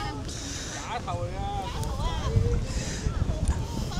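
Wind gusts across the coastal rock formations of Yehliu Geopark in Taiwan, making a steady low buffeting rumble against the microphone beneath a person talking over it.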